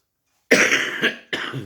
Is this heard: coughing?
yes